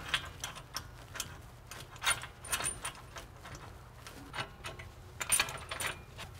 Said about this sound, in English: Temporarily tighten the bracket down right now.